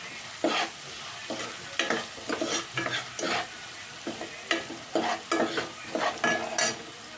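Onions fried with a little salt and coriander powder, stirred in a pan: a low sizzle with a rhythmic series of spatula scrapes and taps, close by and with no talking.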